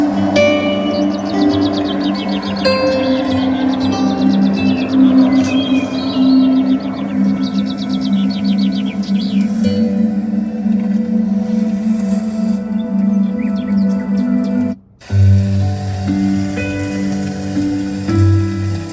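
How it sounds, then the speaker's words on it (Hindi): Steady rain ambience plays through the speakers of a Kia Syros car interior, a continuous patter over a low droning bed, briefly cutting out near the end before resuming. "बारिश वाला म्यूजिक मैंने चला दिया अभी"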